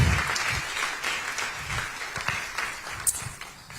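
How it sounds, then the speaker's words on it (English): Audience applause at the JoyNews Impact Makers Awards Night for an honoree, dense steady clapping held at an even level throughout with no voices over it. "a big round of applause for Nanoye Bampo-Addo"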